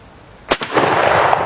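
A rifle fires a single slightly undercharged 7.62 NATO round outdoors, a sharp loud crack after a quiet lead-in, followed by a second quick report and a rolling echo that lingers and tails off.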